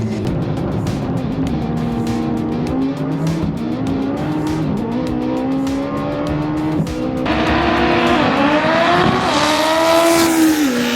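Turbocharged Honda Civic EF drag car launching down the strip, a loud, close engine revving hard through rising gear pulls with a sharp jump in intensity midway, no voices.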